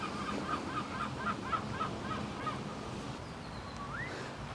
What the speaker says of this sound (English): Peacock, that's pretty cool.